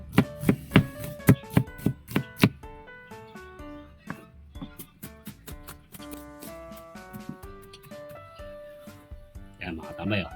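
Knife chopping onions on a cutting board for a dipping sauce, a rapid run of sharp, close taps that is loud at first and then lighter and steadier, with a clattering burst at the end.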